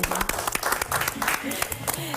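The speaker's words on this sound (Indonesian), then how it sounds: "Boleh tepuk tangannya dulu dong." Studio audience applause during a Ramadan television segment, a short burst of clapping mixed with voices and a sustained musical tone underneath.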